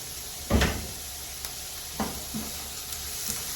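Onions cook slowly in a pan for a keto meatloaf, giving a low, continuous sizzle punctuated by a few dull knocks and clatters of cookware.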